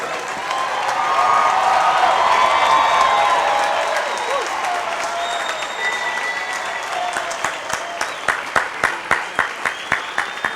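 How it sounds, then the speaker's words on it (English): A large crowd at a Bowdoin College graduation applauds the graduates steadily, the clapping swelling then thinning out into a few distinct, separate claps near the end. "with a great round of applause"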